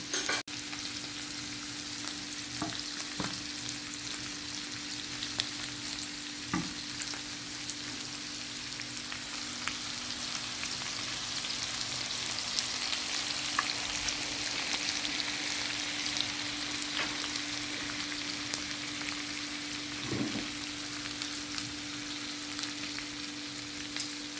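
Garlic frying quietly in a pan, a soft continuous sizzle with occasional faint clicks and scrapes, no talking.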